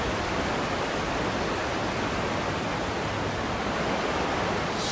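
A waterfall in the video game Skyrim roars as a dense, constant wash of noise, loud and unbroken throughout, with no voices over it.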